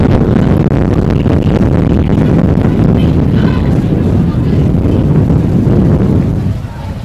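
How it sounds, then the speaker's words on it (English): Wind gusting into the microphone at an outdoor men's college soccer match, a loud, continuous low roar and buffeting that dominates throughout, easing only slightly at the very end. "Wind is still gusting"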